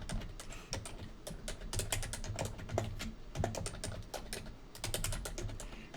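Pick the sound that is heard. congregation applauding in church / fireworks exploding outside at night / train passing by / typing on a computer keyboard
typing on a computer keyboard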